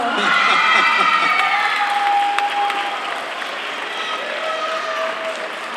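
Festival song-contest audience applauding a prize winner, loud sustained clapping with cheering voices and shouts on top, strongest at first and gradually easing while a sung or held tone rises through the crowd noise.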